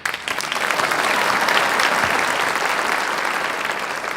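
Audience applause at a school honors night fills a large room as a teacher is called to the stage, dense and steady throughout with no voices over it.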